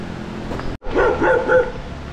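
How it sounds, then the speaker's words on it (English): A dog gives a couple of gruff barks at moderate distance beside a Costa Rican mountain road, with a short break between them. "I think his bark is worse than his bite."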